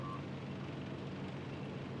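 Repeated electronic beeping alarm from the video game Factorio, steady and continuous over a dense rumbling mix of game noise, with no talk over it.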